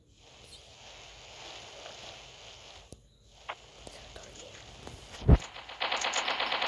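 Gunfire in the mobile game Mini Militia, with scattered shots building to a loud burst and then a rapid, steady stream of automatic fire near the end, all without speech.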